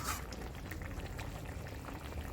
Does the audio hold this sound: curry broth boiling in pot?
yes